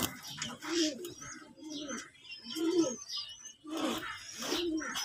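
Pigeons coo nearby in repeated soft, throaty rolling calls about once a second, fairly quiet, with light chirps between them.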